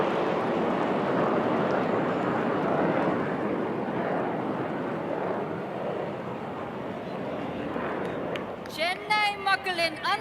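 Surya Kiran aerobatic team jets fly over an Indian Air Force anniversary aerial display in Chennai, making a loud, sustained roar that slowly fades. A voice speaks near the end.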